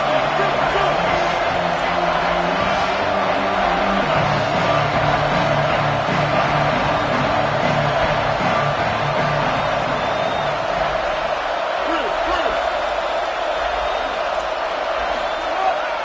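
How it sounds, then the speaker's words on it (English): Loud, roaring stadium crowd in an NCAA college football video game, a dense steady wall of cheering and noise throughout, with a commentator's voice over it. "this crowd is at fever pitch"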